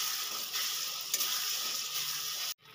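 A ground paste of cumin, chili and coriander fries in a hot pan with a steady, dense hiss and sizzle. The sound cuts off abruptly near the end.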